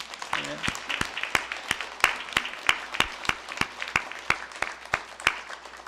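A church congregation applauds steadily for several seconds, claps rising and falling together in a roomy sanctuary, a voice briefly heard at the start.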